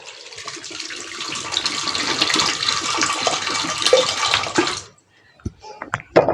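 Water runs steadily from a tap into a pot of salted chickpeas for cooking, a bright splashing pour that stops abruptly, followed by a few small clinks and knocks.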